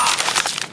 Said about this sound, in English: It is so hard to get a coin or some coins to sound like coins.